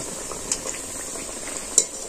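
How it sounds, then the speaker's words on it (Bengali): Rice-flour pitha frying in hot oil, a steady close sizzle with light stirring as the cakes are turned, and two brief sharp utensil clicks. "এটা আমি উল্টে পাল্টে লাল করে একদম সুন্দর করে মুচমুচা করে ভেজে নেব"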